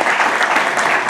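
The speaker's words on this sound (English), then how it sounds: "I'd like to ask you all to give a big round of applause for our panel this evening, Scott Wright, Jessie Hughes, and Alan Duffy." An audience applauds a panel after an evening talk on art, science and VR technology, a loud, continuous wash of many hands clapping, steady throughout with no voices.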